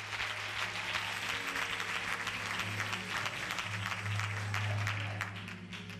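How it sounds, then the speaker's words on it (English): A church congregation claps hands together, a dense continuous sustained applause heard alone at a moderate level, with a low hum underneath. "Clap your hands and tell God thank you."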